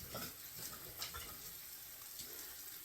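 Ground beef browning in an enameled non-stick pan, giving a steady low sizzle and crackle with a few soft stirring scrapes, fairly close and with no talk over it.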